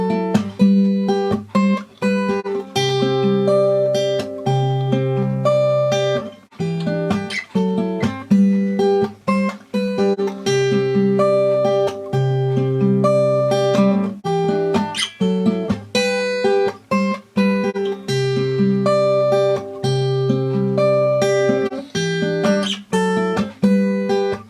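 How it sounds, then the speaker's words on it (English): Steady fingerstyle acoustic guitar pattern from a song, plucked bass notes and chords rolling continuously at tempo for the whole stretch, played solo with no talking. "the predominant sort of fingerstyle pattern that he's playing for most of the song"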